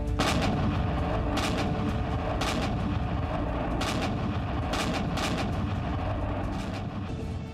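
Heavy Bofors howitzer artillery guns fire again and again, about seven booming blasts at irregular intervals over a constant low rumble.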